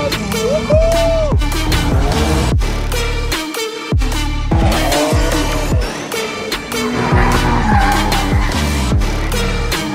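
A car drifts at a drift event, engine revving hard in repeated bursts while tires squeal loudly through each slide, close and continuous.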